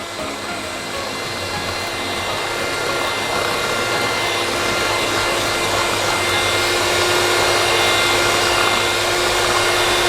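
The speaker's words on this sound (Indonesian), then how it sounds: "Kemudian setelah SP masuk, kita mixer lagi sampai dia sedikit mengembang ya." An electric mixer beats chocolate cake batter with eggs (SP emulsifier) until slightly risen, a steady loud whirring drone that runs unbroken and alone throughout.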